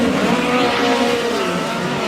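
POWRi West midget race cars at Humboldt Speedway dirt oval, engines screaming and whining past in a continuous loud roar with shifting pitch as the leading cars run separated from the field.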